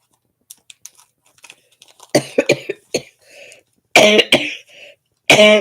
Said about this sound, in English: Oh dear, here we go. Cough, cough.